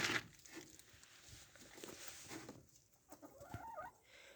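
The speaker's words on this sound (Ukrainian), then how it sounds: "Тут курка собі сюди ж лізе, щоб е, кукурудзи їсти." A chicken clucks faintly nearby amid soft rustling and pattering, with a few brief cackles toward the end.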